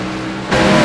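Race cars pass at Sonoma Raceway during a stock-car chase event, one running without its hood; a loud engine roar swells abruptly halfway through as a car passes close by.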